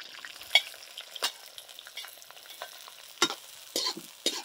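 Green chillies and onions frying in a pan for a Telangana-style prawn fry, soft sizzling with several sharp stirring scrapes and clinks at irregular moments, close and fairly quiet, with no talking.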